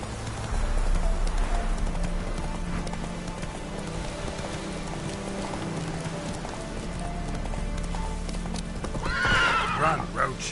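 In a video game, a horse named Roach gallops with rapid rhythmic hoofbeats and lets out a sharp whinny near the end, while a person speaks over the action.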